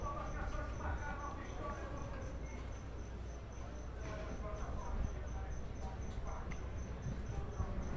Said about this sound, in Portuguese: não tinha percebido nesse grilo